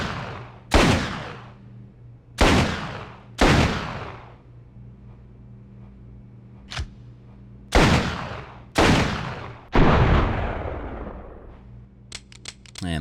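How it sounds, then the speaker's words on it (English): Magnum revolver fire in the video game Resident Evil Outbreak: six or so loud, sharp shots at irregular intervals, each with a decaying boom, followed by faint metallic clicks at the end. "it is the same exact Magnum Revolver that Clint Eastwood uses in the film Dirty Harry"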